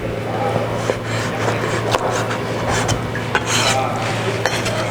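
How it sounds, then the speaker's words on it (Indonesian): A knife chops food into cubes on a cutting board in a home kitchen, making quick close knocks and clinks over a steady low hum, with a voice talking over it. "kalau udah tinggal kita potong aja kotak-kotak."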